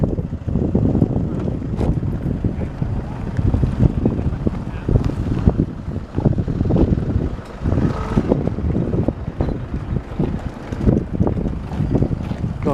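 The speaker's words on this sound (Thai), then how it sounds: "โอ้มีเรือเหล็กด้วยนะครับ" A steel boat moves on the Sukhothai reservoir, heard as a steady rumbling drone mixed with heavy wind buffeting and water noise throughout.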